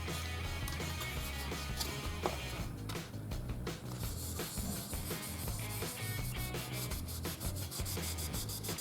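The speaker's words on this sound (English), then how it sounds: "this is the right sanding paper to do this." Continuous rhythmic scratchy rubbing of sandpaper on a 1:24 Italeri Ford Escort RS 1800 Mk II model car, steady and close, with quicker back-and-forth strokes toward the end.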